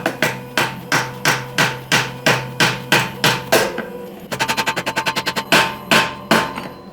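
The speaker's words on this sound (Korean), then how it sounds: "얘는 망치로 톡톡톡 두들겨서" A hammer taps a CYC Photon e-bike kit part onto a bicycle frame in a steady series of sharp, close metallic knocks, ending in a quicker burst of lighter taps before a few more single strikes.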